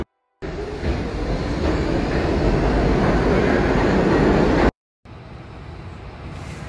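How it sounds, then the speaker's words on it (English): A New York City subway train roars past, a loud sustained rumble and rush that builds and holds for several seconds before cutting off abruptly. "Three trains have passed. One more is passing now."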